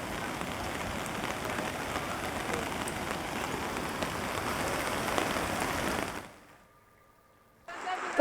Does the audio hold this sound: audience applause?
no